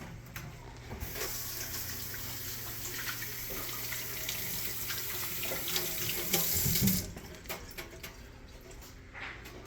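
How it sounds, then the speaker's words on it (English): A kitchen tap runs steadily at close range while hands are rinsed under it, a continuous splashing stream that swells briefly near the end before shutting off. "let me just quick rinse my hands"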